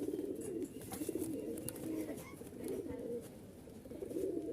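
Rajshahi Giribaz pigeons coo in soft, steady low murmurs throughout, with faint higher chirps and rustles scattered over the continuous cooing.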